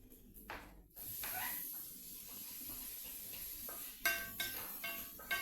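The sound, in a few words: tomatoes added to pan and stirred for crab theeyal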